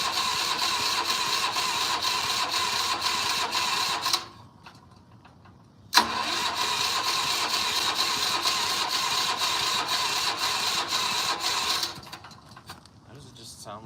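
A small engine with a carburetor is cranked the old-fashioned way with gas, giving a steady rapid mechanical whir that cuts out briefly and restarts, fairly close and loud.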